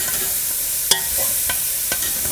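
Onions and minced garlic sauté in a pan with a steady, hissing sizzle, broken by a few sharp scrapes and clicks as they are stirred, close and moderately loud with no speech.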